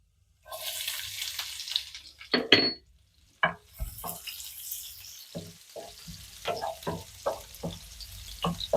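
Cumin seeds and garlic frying in hot oil in a pan for a spicy paneer pepper fry, with bursts of sizzling, a few sharp stirring clinks and quieter gaps between.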